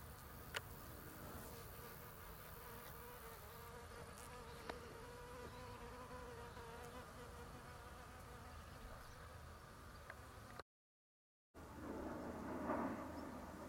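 Bees and bumblebees buzz steadily in a wild meadow, a continuous close insect drone filling the whole stretch with no voices, briefly cut by a gap before resuming.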